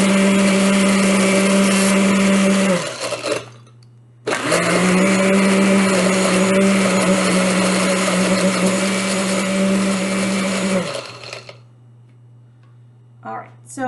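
Blender whirring loudly as it blends a smoothie of ice, fruit and milk, running in two long steady bursts with a short pause between, close to the microphone, then stopping with light clatter.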